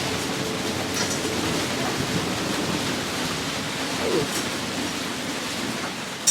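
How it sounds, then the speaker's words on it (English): Steady, loud roaring wind of about 28 knots with rain and rushing water noise on a sailboat, a continuous broadband howl at sea with no breaks. "Do you see increased wind? Hello, increased wind."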